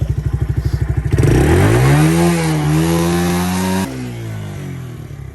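A Kawasaki Mojave 110 engine, heavily overfilled with oil and smoking, putters in a steady idle thump, then revs up and holds a loud rising drone before settling back, close by with no talking.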